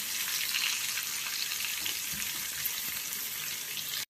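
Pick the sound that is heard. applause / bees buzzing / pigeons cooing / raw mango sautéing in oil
raw mango sautéing in oil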